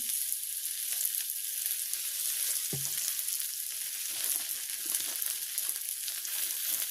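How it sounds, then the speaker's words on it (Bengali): Onion and chili hitting hot oil in a village kitchen pan, a steady bright sizzle that carries on evenly throughout, with one brief low knock partway through. "আমি এখন পেঁয়াজ মরিচটা দিয়ে দেবো। দিয়ে দিচ্ছি তেল"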